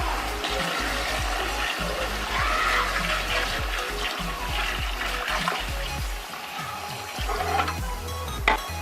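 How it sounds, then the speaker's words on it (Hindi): Water poured into a large pot of biryani masala for two kilos of rice, a steady continuous splashing and gurgling rush that stays fairly loud and close for the whole stretch, with no talking over it. "3 लीटर पानी ऐड करूँगी।"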